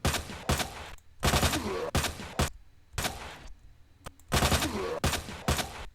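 Gunfire in the Resident Evil 2 Remake game, a series of loud, sharp shots in separate bursts with brief gaps between them, close and punchy with no talking.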